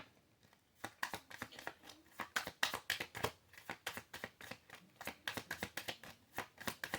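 Tarot cards are shuffled over and over in quick, crisp riffling bursts, a rapid papery flutter repeating close by with no talking.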